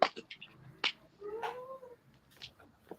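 A pet cat meows indoors, several short, fairly close calls in an irregular sequence, with one drawn-out, wavering cry in the middle and quieter mews after it.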